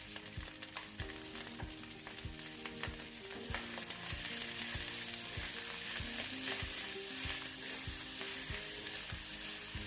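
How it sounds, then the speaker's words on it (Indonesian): Nasi goreng lado hijau, fried rice with green chili, sizzles steadily in a pan while a utensil stirs and scrapes through it in repeated strokes, close and continuous with no talking. "kita aduk kembali"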